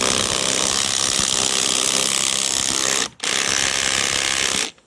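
A loud power drill loosening 19 mm lug nuts on a Club Car golf cart wheel whirs and rattles continuously, cutting out briefly partway through before another burst that stops abruptly.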